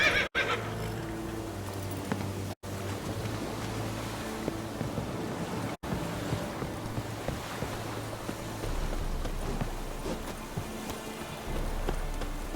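Geralt's horse Roach in The Witcher 3 gallops along with a steady clip-clop rhythm, neighing near the start, under a constant wash of wind or water ambience and occasional sharp clicks.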